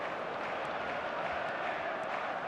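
A football crowd in the eFootball video game keeps up a steady, distant roar of murmuring and cheering throughout, with no distinct peaks.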